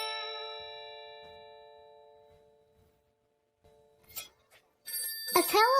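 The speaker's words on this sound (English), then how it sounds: "maybe it makes a ringing sound" A telephone-style bell rings once, bright and tonal, fading slowly over a few seconds into silence before short cartoonish voices and sounds pop in at the end.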